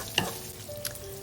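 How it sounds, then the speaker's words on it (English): Pork stir-frying in a pan with cooking wine and chili oil, a short burst of sizzle and a couple of quick stirring scrapes, close and fairly quiet with no talk. "Then we add the cooking wine and stir in the chili oil."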